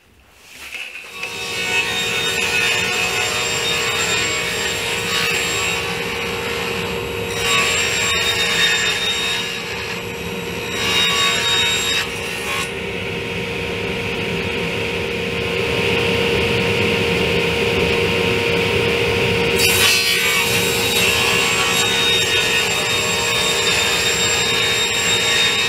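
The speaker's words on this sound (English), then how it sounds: "So I'm going to cut some 6-inch strips out of 3/4 inch plywood, and then I'm going to miter a 45 on each side." Table saw ripping 3/4 inch plywood into 6-inch strips with the blade tilted for a 45-degree miter, a loud sustained whine and rasp of blade through wood, steady throughout with slight changes in pitch as the cut progresses.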